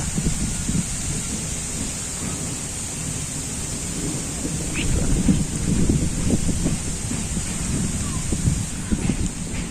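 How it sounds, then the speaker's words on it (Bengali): Gusty wind blowing ahead of approaching rain, a steady broad rush with low rumbling buffeting the microphone, swelling slightly midway and continuing throughout with no voices. "এই বাতাস ছাড়ছে আর দশ মিনিট পর পুরো আমার এখানে বৃষ্টি পড়বে"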